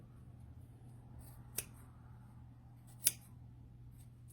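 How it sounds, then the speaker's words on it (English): Sharp scissors snip through four stacked layers of flannel for a rag quilt, giving two crisp separate cuts against a quiet, steady low hum. "even cutting through all these layers of flannel"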